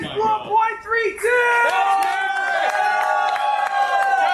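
A group of young men in a room whoop, shout and cheer together in a lively, close-up celebration, with overlapping excited voices throughout.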